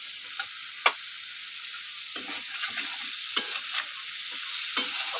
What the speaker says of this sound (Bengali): ভালো করে আমি ভেজে নেব।